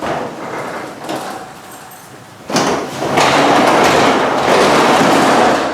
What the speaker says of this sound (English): In case of power failure, you can open and close the garage door.